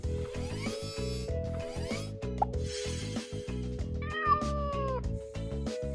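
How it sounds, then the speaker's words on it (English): A cartoon cat meows in a children's animated learning show, a couple of clear mid-pitched meows riding over steady, bright background music. "This is a cat."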